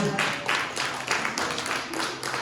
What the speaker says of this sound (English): let's clap for 2024